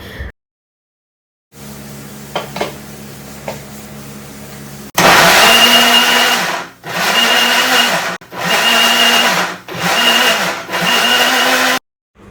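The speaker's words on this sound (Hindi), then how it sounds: "बस अब इसको मैं मिक्सी में एक बार अच्छे से चला दूँगी।" After a faint hum, a mixer grinder grinding ginger and chilies whirs loudly in five bursts, each a few seconds long, with short pauses between.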